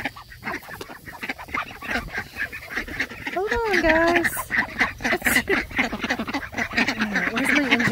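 Ducks quack and honk excitedly as they crowd close around someone scattering bird seed outdoors, a busy near chorus of calls running under a person's talking.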